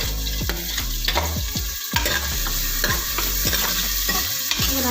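Finely chopped large onions sautéing in oil with whole spices for beef gravy, a loud, close sizzle broken by rapid repeated spatula scrapes and clinks against the pan, with no one speaking.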